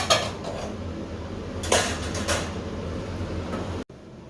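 Dishes and pots clatter a few times as they are moved and stacked, with sharp clinks over a steady background hum.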